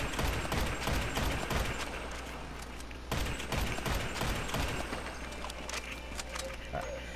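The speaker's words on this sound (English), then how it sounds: "I'm gonna shoot you every time." Gunfire in GTA, rapid loud shots packed into continuous bursts with a sharp renewed volley midway, set against a steady heavy background.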